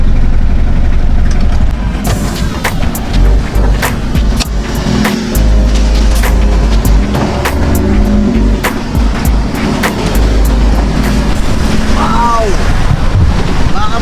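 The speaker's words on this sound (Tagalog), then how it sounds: "ang lakas ng ulan" Heavy rain pours down during a drive, a loud dense wash mixed with strong wind buffeting and road rumble, constant and close with scattered sharp drops hitting.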